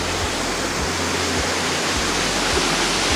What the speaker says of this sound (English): To this wonderful waterfall.